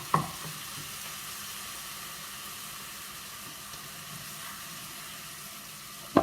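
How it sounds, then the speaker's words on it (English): Spice paste of fresh ginger, garlic and onion frying in a hot pan, a steady even sizzle that holds throughout, with a sharp clatter or stir at the start and again at the end. "So now I am going to add my paste that we just made earlier."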